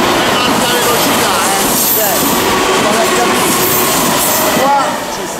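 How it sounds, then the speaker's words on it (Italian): A high-speed train passes near a makeshift encampment by a dump in Rome, a loud continuous rumble with rattling wheels and faint squeals, heard close and steady throughout before easing slightly at the end. "quello è il treno alta velocità"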